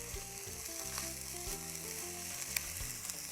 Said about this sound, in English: Stir it frequently.